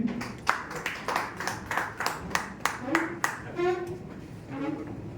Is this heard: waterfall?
no